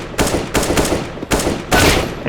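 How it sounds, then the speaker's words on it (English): Rapid rifle fire from an AK or M4 cutting down bots in CS:GO, loud and close, coming in four dense bursts of continuous shots separated by brief pauses. "I usually just go like this with my main rifle, either AK or M4, and just shoot bots"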